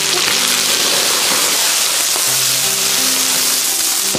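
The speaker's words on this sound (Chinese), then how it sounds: "锅烧来，加点油，油热呀，姜、葱、蒜炒一下" Beef sizzles and crackles loudly in hot oil in a wok with ginger, scallion and garlic, a dense steady frying hiss lasting throughout with no talking.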